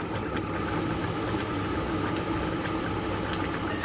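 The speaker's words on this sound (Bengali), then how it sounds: "ঝোলটা আমার প্রায় হয়েই এসেছে, আর কিছুক্ষণ আমি ফুটিয়ে নেব" Thin katla fish curry with potatoes and drumsticks bubbling in a pot over a gas flame, a continuous dense simmer with soft popping bubbles and a low steady rumble, no speech.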